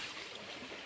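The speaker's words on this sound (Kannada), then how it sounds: "ಆ ತೋಡು ಉಡ್ದು ಬರ್ಪುಣಿ ಈ ನೀರು" Water from a stream spilling over rocks at a small waterfall, a steady broad rushing wash heard up close, with no talk.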